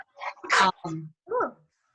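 A single person's sneeze bursts out between stretches of talk in an indoor meeting, loud and close, with voices speaking just before and after it.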